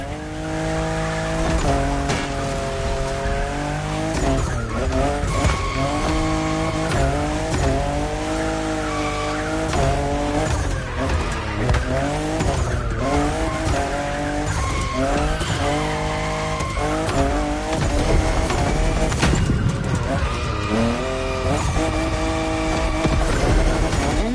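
A fifth-generation Toyota Supra drifts in a racing video game, its tires squealing in long, wavering streaks over a steady engine drone that stays loud throughout.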